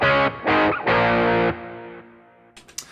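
Electric guitar through a Dumble-inspired overdrive pedal with its ratio set at noon, loud sustained driven chords struck three times, then ringing out and fading, with a few faint string noises at the end.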